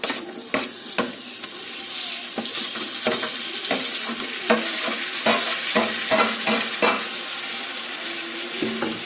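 Tomato pieces tipped into a pan of frying drumstick (moringa) curry and stirred, a steady close sizzle broken by repeated sharp scrapes and clinks of the spoon against the pan, no talking.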